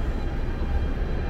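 Steady low rumble of a subway train at Coney Island–Stillwell Avenue station in Brooklyn, idling or moving, a continuous mechanical drone with no talk.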